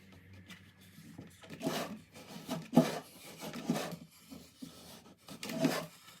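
A blade slices away excess wrap around the top edge of a drum shell, giving a series of short close rasping, scraping strokes with brief pauses between them.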